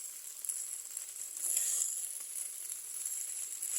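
Lady's finger (okra) thoran being stirred dry in a pan gives a steady soft sizzle with faint scraping, fairly quiet and continuous, swelling a little midway, no voices.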